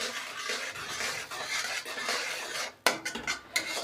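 Jaggery dough mixture with baking powder is stirred in a metal bowl for halwai-style gur khurme, giving a steady scraping rustle and then a few sharp utensil clinks near the end, close by with no talk.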